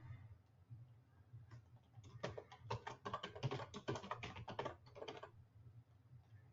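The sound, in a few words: typing a password on a computer keyboard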